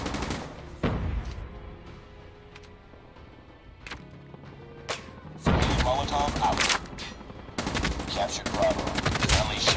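HVK-30 assault rifle fire in a Call of Duty multiplayer match comes as sharp single shots, then sustained loud automatic bursts, with distant gunfire and game sounds around and a voice talking now and then.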